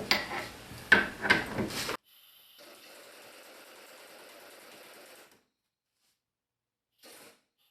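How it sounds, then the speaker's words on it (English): A vehicle universal joint is driven out with a quick cluster of sharp metallic knocks, followed by a few seconds of steady, softer mechanical rattle, then a brief last burst after a pause. "Let's get that set and drive that U-joint out."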